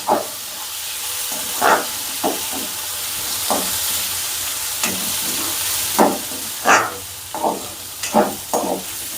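Green chillies and chopped onion frying in a pan for a Gujarati green chickpea curry, a steady oily sizzle with intermittent stirring scrapes and clinks throughout.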